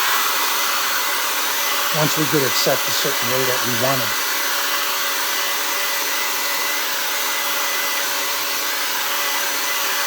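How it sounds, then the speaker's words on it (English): A hair dryer blows steadily and loudly throughout, drying a watercolor painting of a lakeside mountain scene, with a person speaking briefly over the constant whooshing airflow. "We use a hair dryer in this."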